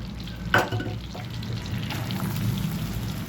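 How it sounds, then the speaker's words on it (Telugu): Cumin seeds dropped into hot butter in a heated pan give a soft, steady sizzle, with a brief sharp crackle right as they go in, then a low continuous frying hiss. "ఇదిగోనండి జీలకర్ర వేస్తున్నా"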